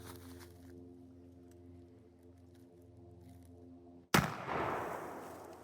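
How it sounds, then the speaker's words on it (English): A 10 gauge shotgun fires a single loud, sharp blast outdoors, preceded by a quiet low hum and followed by a rolling echo that fades slowly. "Should I shoot a little lower and see if I can go get a center shot?"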